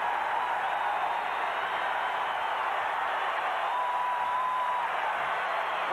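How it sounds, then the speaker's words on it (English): An arena crowd at a Dream Team vs Cuba basketball game roars steadily, a dense sustained wash of cheering heard from within the stands. "That gets the crowd going."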